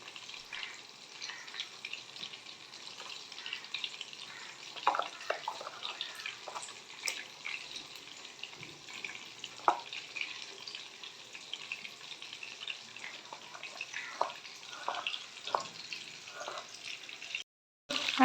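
Chicken pieces fry in hot oil in a home kitchen, a steady close sizzle with bursts of crackling and popping, no voices over it.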